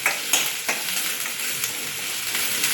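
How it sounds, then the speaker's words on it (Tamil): Green chillies and curry leaves sizzle in oil in a pan for kurma, a steady frying hiss broken by a few sharp scrapes as a spatula stirs, close and with no talk. "ஒரு 4 பச்சை மிளகாயை கட் பண்ணி சேர்த்துக்கலாம். சேர்த்துட்டு இதை நல்லா வதக்கிக்கணும்."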